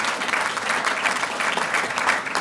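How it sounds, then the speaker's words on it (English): Sustained, even applause from a seated audience at an all-breeds convention awards dinner, moderately loud and continuous from start to finish with no voices on top. "give them all a big round of applause"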